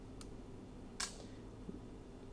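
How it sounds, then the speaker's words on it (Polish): A Fenix II film rangefinder camera's shutter releases with one crisp, close mechanical click. A faint tick comes just before it, and the room is otherwise quiet. "i zwalniamy migawkę"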